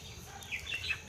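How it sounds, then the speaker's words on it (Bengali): Small birds chirping in a nearby tree, a few brief, faint high tweets over a quiet background. "এদিকে সেই গাছে কিচকিচ করে পাখিগুলো ডাকছে"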